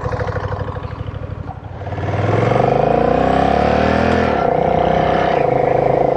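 A Honda Rebel 1100 DCT motorcycle with its automatic dual-clutch transmission pulls away and accelerates, the engine's loud pulsing growl climbing in pitch, dipping at a self-made gear change, then rising again close by.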